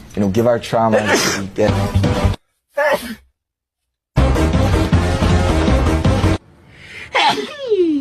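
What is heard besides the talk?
sneeze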